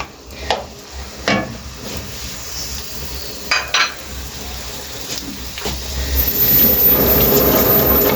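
Green chilies, garlic and onions fry in a pan, a continuous rain-like sizzle with occasional sharp clinks of a spoon stirring against the metal, the hiss swelling louder toward the end.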